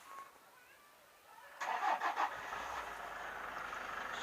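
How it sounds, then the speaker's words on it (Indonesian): A car engine, just after a home radiator flush, turns over and fires at about 1.6 s, then settles into a steady idle close by. Before it, a quiet stretch holds only faint background. "menghidupkan kembali mobil"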